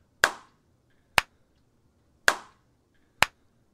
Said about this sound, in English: A clap before and after.